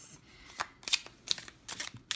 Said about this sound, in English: I'm just gonna give this a shuffle because it's in order